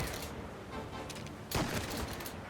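Dense gunfire in Mafia Definitive Edition, a continuous rattling burst that grows louder and harsher partway through.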